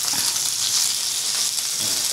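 Curry leaves crackling and sizzling in hot oil on a tawa alongside frying sea fish, a steady bright hiss close up with small pops, no talking.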